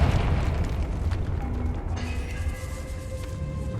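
A Confringo blasting spell goes off in Hogwarts Legacy inside a catacomb, with a dense, roaring burst of explosion noise that stays loud and sustained throughout.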